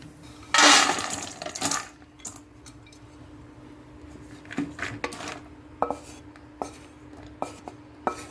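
Lightly fried dry fruits are scraped and tipped from a pan into another dish, with a burst of rattling followed by scattered metallic clinks and taps, close and fairly sharp.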